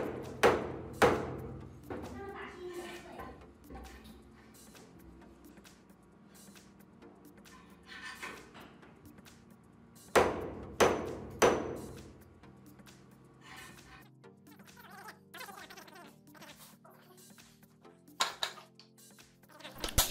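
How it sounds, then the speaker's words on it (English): A Discovery Optics VT-T 6-24x50 FFP rifle scope is bashed down onto a table in abuse testing, played sped up: clusters of sharp, heavy thuds and knocks separated by quieter stretches, fairly faint overall. "this guy just busted that table up by bashing the scope down on the table"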